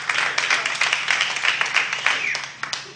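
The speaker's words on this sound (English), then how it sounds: "Single folks, you now, please," A comedy club audience claps on cue, sparse and uneven hand claps swelling into moderate applause, with individual sharp claps standing out over a steady patter.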